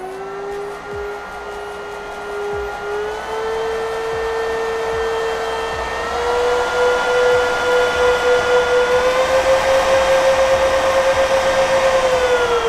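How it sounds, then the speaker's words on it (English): Cooling fans of a Goldshell Mini Doge 3 crypto miner spool up, a loud steady whine climbing in pitch and strengthening over about twelve seconds, with a broadband airy rush beneath and no talking. "Then what it'll do is spool these fans up. It'll spool them up really loud."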